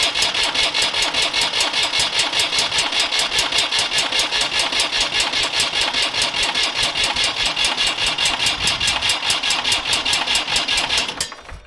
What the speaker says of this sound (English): With my jump pack on, it'll crank over.